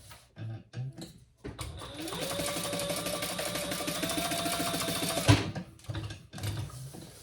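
A sewing machine stitches a trifold men's wallet in one sustained, close whirring run of about four seconds, with a rapid mechanical rhythm that starts up and then cuts off. Brief rustles and handling noises come before and after it.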